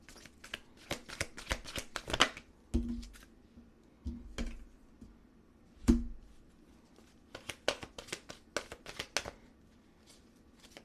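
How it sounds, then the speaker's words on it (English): Cards are shuffled and riffled in irregular bursts of crisp flicking and slapping, close up, with quiet pauses between handfuls. "My shuffle game is not working right now."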